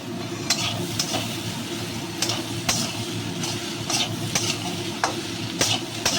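Fig curry with soaked chickpeas is sautéed in a pan. A spatula scrapes and stirs in repeated strokes over a constant nearby sizzle.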